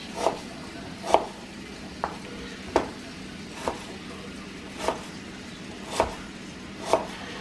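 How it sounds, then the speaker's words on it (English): Purple onions being sliced with a knife on a cutting board, eight distinct chopping thuds spaced roughly a second apart, close and fairly quiet against a low background hum. "we're going to go ahead and get the rest of these sliced up, and we're just going to slice them just like that"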